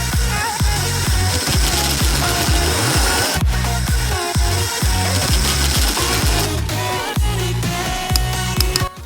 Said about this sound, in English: Swap over to the hole saw and begin drilling your peg hole.